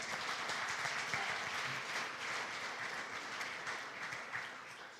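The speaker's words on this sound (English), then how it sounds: "So let's give a round of applause for all our sponsors." A crowd at an awards banquet gives sustained applause for the sponsors, a dense, even wash of clapping lasting throughout with no voices on top.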